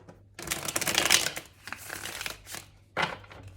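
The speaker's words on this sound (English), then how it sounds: "do one last shuffle." A deck of tarot cards riffled and shuffled up close, a long rapid flutter followed by shorter shuffling bursts.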